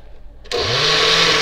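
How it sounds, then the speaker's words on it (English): Blender whirring up to speed as it blends watermelon gazpacho ingredients with salt, a sudden loud motor start after a quiet moment, then a steady high whine. "you are just going to blend everything in our blender"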